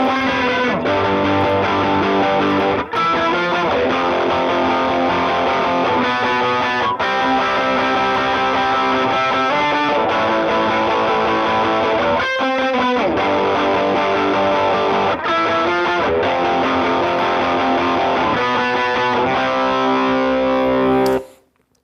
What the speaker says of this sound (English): fills out the sound more with one of these tube screamers